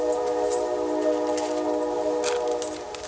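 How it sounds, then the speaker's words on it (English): A passing train sounds its horn in a sustained, droning blast, heard at a distance with a faint rumble underneath. "Train."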